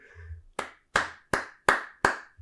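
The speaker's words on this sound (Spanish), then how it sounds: "Hay que aplaudir, ¿eh? Es para aplaudir, ¿no?" Six sharp, slow hand claps, close and evenly spaced, standing out clearly with no talk over them.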